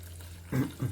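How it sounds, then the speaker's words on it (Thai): Water is poured into a pan while cooking fish for a Thai-Lao pounded snakehead fish dish, two short close splashy gushes over a low background hum. "เทน้ำตกลงไป"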